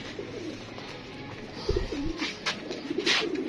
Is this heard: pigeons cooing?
yes